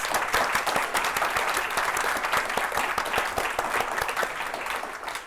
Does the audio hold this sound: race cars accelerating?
no